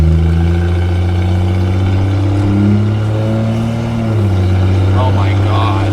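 A Toyota Soarer with a 1JZ single turbo engine idles roughly and then gets a few blips of throttle, a loud, close, uneven low engine note that rises and falls. A person talks faintly over it.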